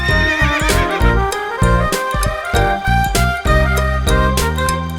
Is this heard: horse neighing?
yes